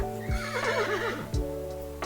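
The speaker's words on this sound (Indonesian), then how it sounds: "Kuda. Iya, ini hewan kuda." A recorded horse lets out a loud, wavering whinny lasting about a second, framed by two short snorting thumps, played back over a steady background hum.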